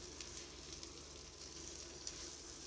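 Green chilli, grated coconut and bottle gourd leaves frying together in a pan over medium heat, giving a soft, even sizzle that stays faint and steady throughout.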